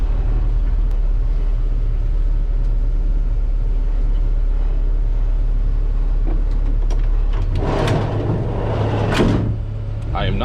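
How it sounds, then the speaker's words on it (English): An LLV mail truck rumbles with a steady, low engine drone from inside the cab, followed by clunks and rattles near the end as it moves, while the driver talks over it. "Beep, beep, I drive a mail truck."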